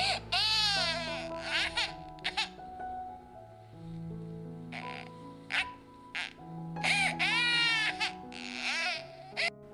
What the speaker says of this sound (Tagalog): Tunog ng isang sanggol.